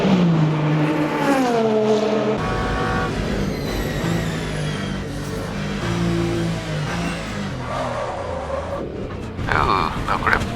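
A race car in the Le Mans Ultimate racing game, running the 24 Hours of Le Mans, brakes hard and accelerates on track, its engine note sweeping down and climbing again, loud and continuous under a commentator's steady talk.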